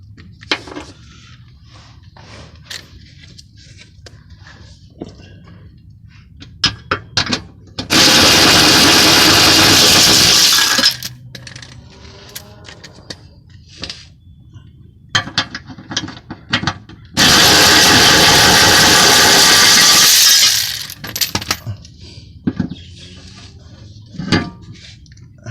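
A ratchet spins off transmission cross member bolts on a 93-02 Camaro in two long, loud, rapid clicking bursts, with scattered metallic taps and clanks between them.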